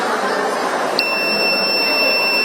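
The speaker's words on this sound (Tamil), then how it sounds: "வண்டி வந்து பீப் அலாரம் கொடுக்கும்." A bike's anti-theft alarm beeps: one sharp, shrill electronic tone switches on abruptly partway through and holds steadily over a loud, broadband background noise.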